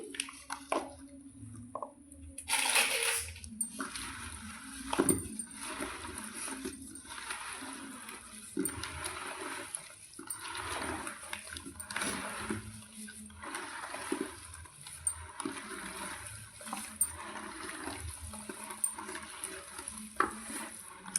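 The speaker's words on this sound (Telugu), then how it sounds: "మనం ఆయిల్ వేసేసుకున్నాం కదా, బాగా కలిపేసుకోవాలి." Mango pickle being stirred together with oil in a plastic tub, giving repeated wet squishing and scraping strokes at close range, with some faint clinks along the way.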